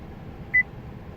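A 2014 Chevrolet Silverado dashboard gives a single short electronic beep on oil life reset, faint and close, over a quiet low background hum.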